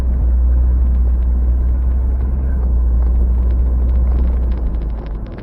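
Engine of a Ford F100 pickup, back running after sitting seven years, rumbles as the truck cruises along, a loud steady low drone filling the clip before easing off near the end.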